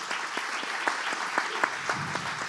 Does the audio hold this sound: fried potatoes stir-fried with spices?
no